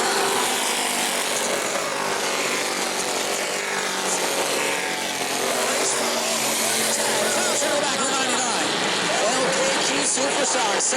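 Super stock race cars roar around the New Smyrna oval, their engines buzzing loud and continuous as the pack passes close, with a race commentator talking over the noise.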